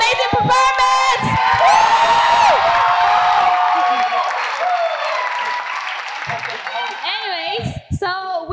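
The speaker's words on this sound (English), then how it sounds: "Another round of applause for an amazing performance!" Audience applause and cheering fill a community performance hall, with whoops and children shouting over steady clapping, while an emcee's voice talks over the crowd near the end.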